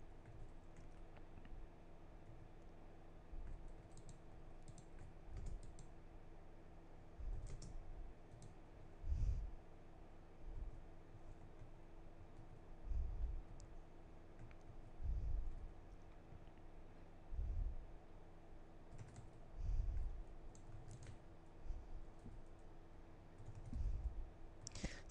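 A loud, clicky computer mouse gets clicked over and over during a rooftop deathmatch game, soft tapping clicks in uneven bursts against a steady low hum.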